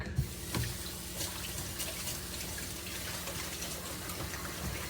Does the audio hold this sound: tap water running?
yes